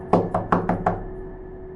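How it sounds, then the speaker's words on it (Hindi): Five sharp knocks come in a quick, slightly uneven series, clear and close against a quiet, droning background, used as a sound effect in a Hindi horror story set in a house at night. "अचानक ऊपर वाले कमरे से हल्की सी ठक ठक की आवाज आई"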